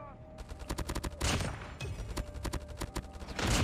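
Rapid bursts of close gunfire in the mobile shooter Call of Duty Mobile, with a gold HBRa3 assault rifle build firing in quick volleys and loud sustained stretches, and the odd voice mixed in.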